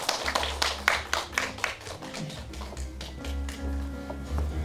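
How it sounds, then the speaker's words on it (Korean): Applause at a beauty brand award ceremony in a hall, a burst of distinct, fairly close claps that thin out into scattered taps, with low background hum. "류지원 대표님께도 큰 박수 부탁드릴게요"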